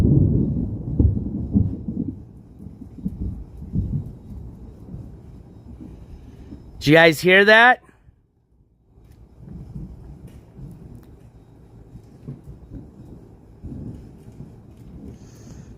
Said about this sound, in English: Starting to thunder a bit.